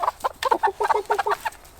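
Chickens squawk and cluck in a rapid, uneven run of loud bursts close by while being released from a carrier, with no talking over them.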